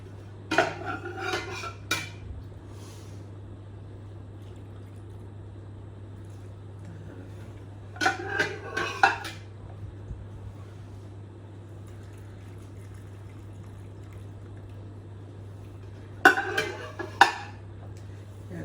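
Lids being put on glass jars of pickled beetroot in a kitchen, three separate short bursts of clinking glass and metal screwing sounds, spaced apart and fairly close, with a steady low hum between them.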